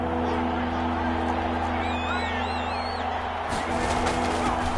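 Stadium crowd noise in a Madden NFL football game between the 49ers and Rams, a constant roaring murmur with some rising whistles and whoops, under play-by-play commentary.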